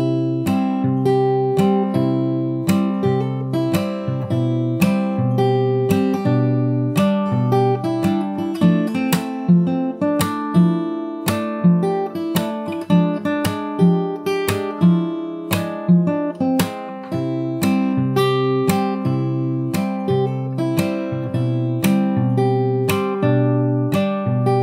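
Fingerstyle acoustic guitar plays two loops of the looping section from a song at a slightly slowed tempo, steady plucked notes and bass lines ringing clearly and continuously with no talking.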